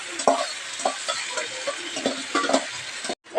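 Marinated meat added to browning onions in a hot pan, a steady sizzle punctuated by repeated clattering stirs close by, ending in a brief silence.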